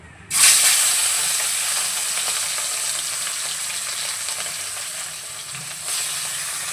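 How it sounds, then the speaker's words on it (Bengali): Prawns frying in hot mustard oil: a loud, close sizzle bursts in as they hit the pan and holds as a steady hiss throughout, with no talking. "তেলটা গরম হয়ে গেছে প্রথমে মাছগুলোকে ভেজে নেবো"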